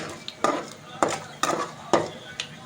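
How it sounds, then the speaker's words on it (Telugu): Ground gongura (sorrel leaf) paste going into a hot tempering of fried dried red chillies, with four distinct stirring scrapes of a spoon against the pan, each followed by a soft sizzle, close and fairly loud. "మనం రుబ్బు పెట్టుకున్న గోంగూరని దీంట్లో వేసేసుకోవడమేనండి"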